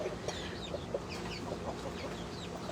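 Laced Cochin chickens cluck softly in a small flock, with scattered short clucks and brief chirpy calls over a low farmyard background.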